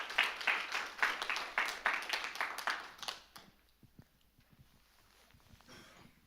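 Audience at a church evangelism camp meeting clapping in welcome, brisk rhythmic applause for about three seconds that quickly fades to scattered faint claps and room quiet.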